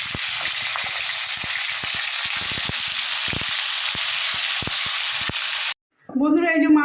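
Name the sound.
fish frying in hot oil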